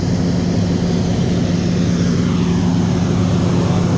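Steady, loud drone of a Caterpillar diesel engine powering a drilling rig, a constant low rumble with a throbbing hum that runs unbroken, close by and without talk.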